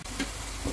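Ginger garlic paste frying in oil in a pan, a steady soft sizzle heard alone and fairly quiet.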